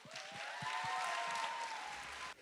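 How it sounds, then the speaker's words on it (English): Audience applause for a performer at a city heritage month celebration, a short burst of steady clapping with a tone sustained over it, ending abruptly. "Let's give up a round of applause for Chip Han."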